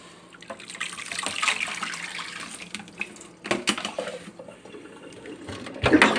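Hot tap water runs and splashes into a sink while rinsing Merino wool locks, fairly quiet and close, with a few louder gushes and clinks near the end.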